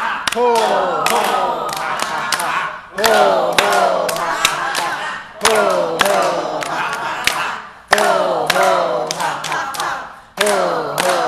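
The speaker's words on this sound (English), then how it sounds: "let's build on this clapping exercise" Group hand clapping during a seated laughter yoga session, delivered in four or five energetic bursts of rapid claps separated by short pauses, with loud voices and cheering mixed in.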